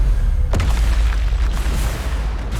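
A Bombarda spell explosion in the video game Hogwarts Legacy, a deep booming blast near the half-second mark over a constant low rumble, followed by softer crackling bursts and thuds.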